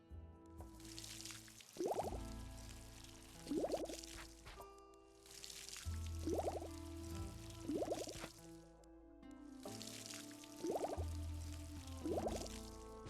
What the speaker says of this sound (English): See if I can water them all with one can.